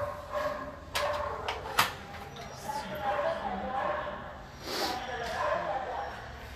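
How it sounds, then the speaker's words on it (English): An Australian cattle dog at an animal shelter barks and yips in short bursts with occasional whimpers, close by, over a busy background of other dogs and people talking. "He is a 4-year-old Australian cattle dog."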